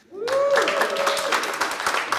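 A comedy show audience breaks into applause, dense steady clapping that starts abruptly and holds at an even level, close and full.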